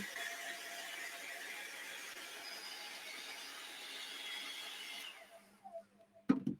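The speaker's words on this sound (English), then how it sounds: "this is a hairdryer on a cool setting" A hairdryer on a cool setting, used as a drying tool for gel printing, gives a steady, faint whooshing drone for about five seconds. Then it cuts off, leaving quiet and a few sharp clicks.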